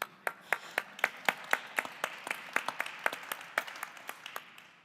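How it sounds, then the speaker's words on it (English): An audience claps after an author talk at a museum event, with fairly sparse, evenly spaced sharp claps that sound soft and somewhat distant and keep up steadily for several seconds. "Ladies and gentlemen, a round of applause for Drs. Debórah Dwork and Sean Scanlon."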